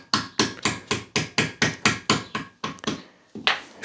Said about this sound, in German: Marek haut jetzt gerade die Buchsen wieder rein. Schön mit einem Yummy-Hammer.